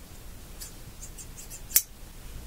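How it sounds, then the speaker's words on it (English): A single crisp snip of a pair of scissors, quiet and close, with a few faint rustles of paper around it while making a sticker book. "Next, you'll need a good pair of scissors"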